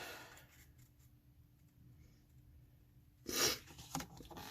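During an allergy attack, a sharp nasal sniff bursts out after several quiet seconds, followed by a smaller second sniff, close and fairly faint over low room noise.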